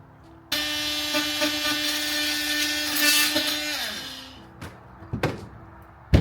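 A power tool, likely an oscillating or rotary cutter, whines steadily as it cuts an electrical box opening in a drywall panel during garage repairs, then winds down, followed by a few sharp knocks and clatters.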